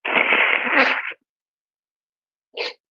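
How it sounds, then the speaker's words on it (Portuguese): A person gives one loud, close sneeze lasting about a second, followed by a brief, sharp second burst after a pause of silence. "estou espirrando muito aqui"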